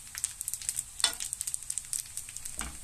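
Raclette-filled brick pastry sheets heating in a pan, giving a close, crackly sizzle with rapid irregular pops and spits and a brief louder burst of frying, with no talk.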